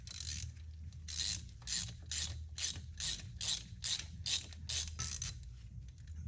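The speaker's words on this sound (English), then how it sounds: "take a socket and start tightening" A socket wrench ratchet clicks in about ten evenly spaced bursts while snugging down cylinder head bolts on a Fiat 128 engine, each stroke a crisp, close, metallic rasp with brief pauses between.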